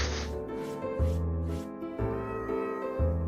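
Cat meows in a cat video game trailer, four or five drawn-out calls at roughly one-second intervals, heard over steady synthetic music.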